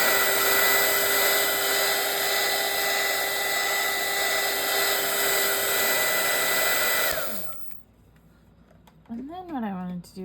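A heat tool blows a steady, loud whooshing hiss while warming bookmark craft material, then cuts off abruptly after about seven seconds, followed by brief talking.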